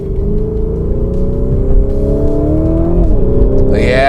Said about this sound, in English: Good old V8 power. That twin turbo 4 litre.